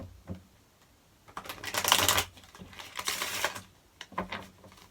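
Two short bursts of tarot cards being riffled together close by, with soft clicks and taps in between.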